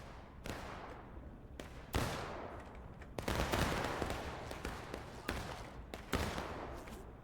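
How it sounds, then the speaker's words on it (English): Scattered musket volleys in a Civil War battle game, sharp cracks at irregular intervals from mid distance, some shots overlapping into short rolling bursts. "CSA kind of doing the same thing as Union, just spreading out and taking shots from a distance"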